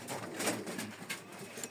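Pigeons at a pigeon farm, blue-white and black-ball breeds, give soft low cooing in a short burst under faint background murmur, ending with a louder close sound.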